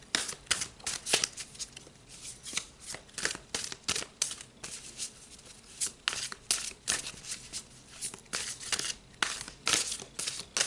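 Tarot cards are shuffled close by, with continuous rapid riffling and flicking bursts that come in uneven clusters and short pauses, no talking.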